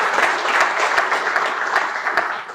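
An audience claps steadily and evenly, a dense, sustained round of applause in an indoor gathering, with no voices over it.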